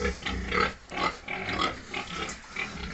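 A pig in a pen with water poured on the floor during 40-degree heat grunts and snorts up close, in a string of short, irregular calls.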